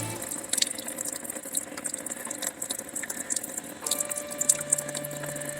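Coolant drains from the radiator drain of a Toyota Prius in a steady, close trickle and splash with faint metallic ticks, and no voices.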